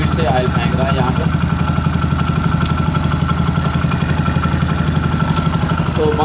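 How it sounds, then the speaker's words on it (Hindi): A Honda CD100 motorcycle engine runs steadily after being reassembled in a workshop, idling with a loud, even, rapid firing beat and mechanical clatter, close up throughout. "साउंड हमारा ये देखें यहाँ पर चेक करवा देता हूँ, बिल्कुल बाइक अच्छी साफ साउंड है।"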